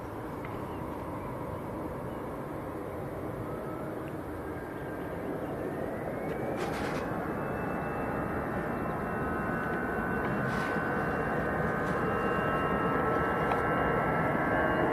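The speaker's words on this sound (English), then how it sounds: "I've got a departure ready to roll." An EasyJet airliner departs Manchester Airport for Milan, its jet engines building from a distant roar into a louder, steady rumble with a rising whine as it rolls for takeoff.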